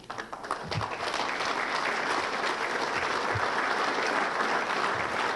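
Steady applause from an audience at a charity celebrity golf event in Surrey, dense clapping holding at an even level throughout with no talk over it.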